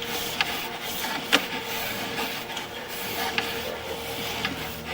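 Sewer inspection camera cable retracted through a PVC-to-ABS main lateral line, giving a steady close rasping, rubbing hiss with a few faint ticks, alone without talk.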